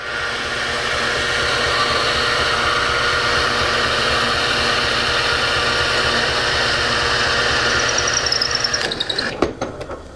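A power saw cuts down through a wooden board while making wooden toy wheels, giving a loud, steady whine for about nine seconds that then cuts off abruptly with a few short rattles.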